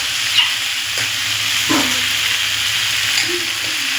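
A pan of hilsa fish-head curry sizzles steadily as turmeric is stirred in, with a few soft scraping strokes over the constant frying hiss.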